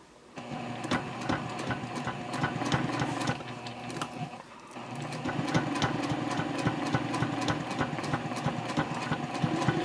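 A sewing machine runs continuously as it stitches fabric piping along a marked line. The motor hums with a rapid mechanical chatter that pauses briefly about midway and then resumes at a steady pace, close up with no voices.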